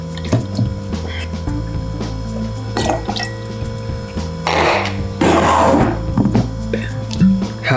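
Heavy cream and whole milk are poured in half-ounce measures for a coconut, coffee and bourbon cocktail, with short liquid pours and drips and clinks of a jigger over a steady low hum.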